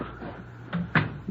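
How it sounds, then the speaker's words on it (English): A door shuts in a 1950 radio drama, one solid thump after faint room movement, close and brief. "And we will close the door."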